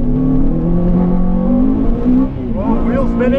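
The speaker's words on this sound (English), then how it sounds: "Oh, wheel spinning." A car's engine revs and whines as its wheels spin on a wet race track at Blyton Park, a loud, close, continuous drone with rising pitch near the end, heard from inside.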